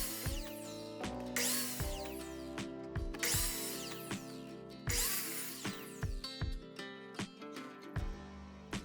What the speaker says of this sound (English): I'll be using 4 3-inch long deck screws to hold that in place